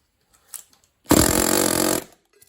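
A single loud burst of rapid air-hammer pounding, about one second long, close by, knocking out a carrier bearing on a 2009 Pontiac G8 GT, with quiet clicks of handling before and after.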